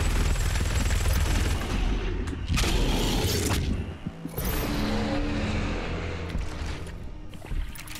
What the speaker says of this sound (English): Hey, that's a chain gun.